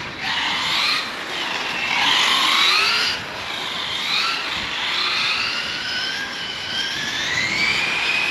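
A Hong Nor X3 GTSe nitro RC car engine screams at high revs, its pitch rising and falling as the throttle is worked, loud and close over the whole stretch with no talk.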